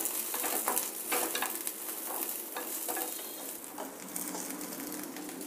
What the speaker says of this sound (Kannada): ಈಗ ಬೆಳ್ಳುಳ್ಳಿ ಫ್ರೈ ಮಾಡ್ಕೊಳ್ಳೋಣ